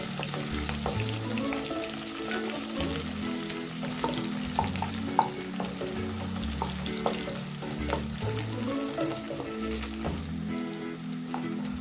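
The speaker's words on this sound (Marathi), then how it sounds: "त्यानंतर मी इथे कांदा जो घेतलाय या आकाराचा तो मी ॲड करते." Onion fries in a pan for soya chilli, giving a constant close sizzle with a rhythmic, repeated low-pitched scraping of the spoon as it is stirred.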